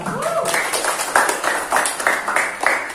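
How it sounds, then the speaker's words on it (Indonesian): Classroom applause for a student group after a sociology presentation, a short round of close hand claps in uneven bursts, with a voice heard faintly at the start. "Tepuk tangan untuk kelompok 3."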